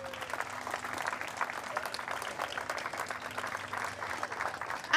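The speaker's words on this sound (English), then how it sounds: "a big round of applause" A crowd applauds a second-place podium finisher after a Ferrari Challenge UK race at Snetterton. The clapping is steady and moderately loud throughout.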